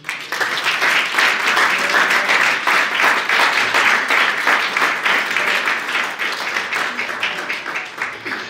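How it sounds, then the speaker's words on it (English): Sustained applause from a sizable crowd at an awards dinner, dense steady clapping that holds strong for several seconds before easing slightly toward the end. "A round of applause"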